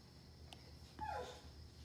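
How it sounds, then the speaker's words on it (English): A dog whimpers for attention with a single short, thin whine that slides downward, faint and brief against steady room hiss, with a tiny click just before it. "my dog's wanted my attention"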